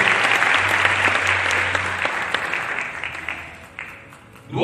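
Clapping from a seated audience at a motivational training seminar, loud and dense at first, then thinning and fading as the applause dies away.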